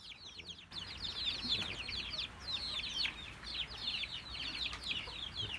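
Chickens cluck repeatedly in a rustic backyard pen shared with ducks. The short clucks come in quick, busy clusters at moderate distance over a quiet outdoor background.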